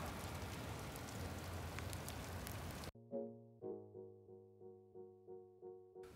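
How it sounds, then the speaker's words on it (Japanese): Sudden heavy rain pours down in a dense, steady hiss for about three seconds, then cuts off abruptly, followed by a series of ringing musical notes. "いきなりこんな降るか。"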